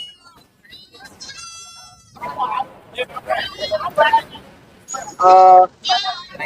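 At a goat market in Kunnathur, goats and young kids bleat in short, wavering cries, a few of them loud and close, amid people talking and general crowd murmur.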